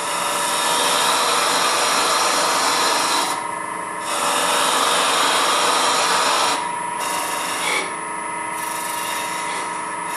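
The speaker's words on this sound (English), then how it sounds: "Now this is just a matter of leveling the rest of this tenon down to the level that I cut that end piece" Wood lathe turning a tenon on a wooden salt shaker, the tool leveling it down: a continuous scraping, rasping cut over the spinning hum, broken by brief quieter pauses where the tool lifts off, close and without talk.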